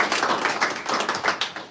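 A small audience at a dental honor society ceremony claps, a brief patter of individual hand claps with a clear, uneven rhythm, fairly close and moderately loud.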